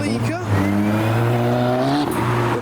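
A BMW M2 doing skids in a car park during a car meet, a sustained engine drone with revving and tire noise, heard fairly close amid crowd chatter and other idling cars.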